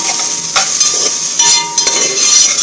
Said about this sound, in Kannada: ಆವಾಗಲೇ 1-2 ಸ್ಪೂನ್ ತುಪ್ಪದಲ್ಲೇ ಹುರ್ಕೊಳ್ತಾ ಇದ್ದೀನಿ ನಿಧಾನಕ್ಕೆ